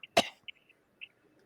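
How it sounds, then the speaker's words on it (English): One sharp, close cough bursts out and fades quickly, followed by a few faint breathy sounds in an otherwise quiet space. "You hear like coughing."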